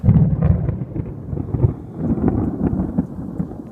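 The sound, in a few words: thunder from a thunderstorm over a marsh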